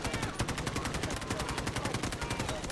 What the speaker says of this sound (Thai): โอ้ใครยิงวะทุกคนสาดหมดเลยเมื่อกี้